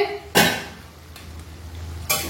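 A lid is set onto a cooking pan of ridge gourd, giving a sharp metallic clank, a quieter tap, then another clank near the end, close and clear over a low kitchen hum.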